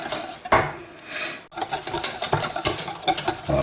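Lemon curd filling for a lemon meringue tart stirred in a hot pan, close scraping and swishing strokes with a faint sizzle underneath, steady and uneven in rhythm.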